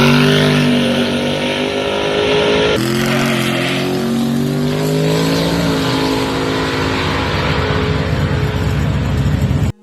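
The engine of a 1980 Malibu, nicknamed Maliboost, runs loud and close, its harmonic tone rising and shifting through several revs for about ten seconds with no voices.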